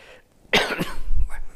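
A single harsh cough bursts out close to the listener, followed by a rough, rumbling clearing of the throat.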